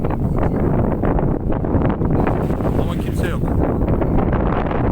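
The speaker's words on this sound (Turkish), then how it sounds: "Rüzgardan belki sesim biraz kötü geliyor" Wind on an open sandy beach by the sea buffets the microphone with a constant low roaring rumble, loud and unbroken, while someone talks over it.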